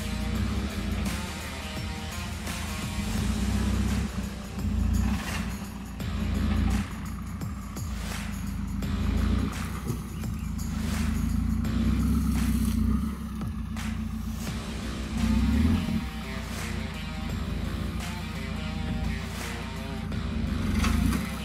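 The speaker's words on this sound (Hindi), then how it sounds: "बड़े ही प्यार से हमें यहाँ से गाड़ी क्रॉस करनी पड़ेगी" A Mahindra Thar crawls over large river stones in Mirzapur, its engine a steady, loud rumble with revs rising and falling over the full stretch and no talk.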